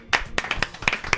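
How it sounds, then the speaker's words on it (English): A few people clap in a kitchen, a short burst of sharp, uneven hand claps close by, sparse rather than a crowd. "Round of applause in the kitchen room."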